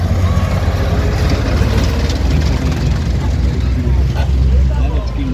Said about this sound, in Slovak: Stíhací bombardér